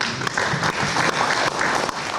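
A crowd claps steadily and loudly in an Indonesian parliament (DPR) session, with a dense wash of hand claps that carries through the whole stretch without voices on top.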